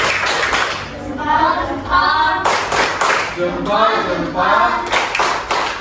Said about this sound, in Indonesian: Kita berikan dulu tepuk salut untuk si Yolanda